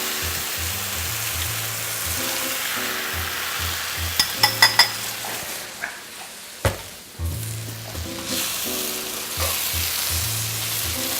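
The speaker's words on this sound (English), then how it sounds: "So now we're just gonna add in the egg mixture." Egg mixture frying in a pan with mushrooms and vegetables for a breakfast burrito, a continuous close sizzle with a few sharp clicks and taps of stirring partway through.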